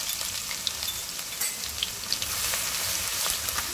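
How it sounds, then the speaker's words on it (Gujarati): Crushed ginger and garlic fry in hot oil with carom seeds and asafoetida, a close, steady sizzle with crackling pops and stirring scrapes, no voices. "હવે આપણે ક્રશ કરેલી આદુ લસણ નાખશું."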